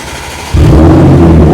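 An Audi S5 with the fiberglass removed from its mufflers cranks and fires, jumping from quiet to a loud, raspy idle that starts to climb at the end.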